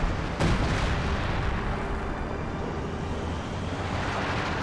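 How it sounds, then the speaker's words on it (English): Mortar shells landing in the World War II strategy game Company of Heroes 2: a sharp impact crack near the start, then a steady roaring rumble of battle noise that stays loud throughout. "Some mortar hits as well."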